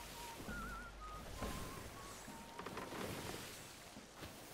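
A man whistles a short wavering tune, thin clear notes rising and falling over a busy background of sea, waves and game ambience, heard close and without speech.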